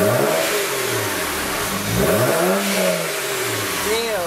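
A BMW 335i engine revs in repeated rising and falling sweeps with a turbo spooling whine, loud and close, its tone echoing as if inside a garage.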